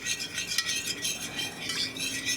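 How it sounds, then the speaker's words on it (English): A spoon stirs a Clear Gel slurry in a bowl, making quick rhythmic scraping and swishing strokes up close that repeat steadily without pause. "you just want to mix all that clear gel in"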